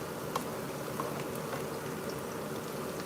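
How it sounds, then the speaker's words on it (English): Onion and garlic frying in oil for a rice stew, a steady close bubbling sizzle that runs evenly without a break, with no one talking over it. "So I'm frying onion and garlic right now."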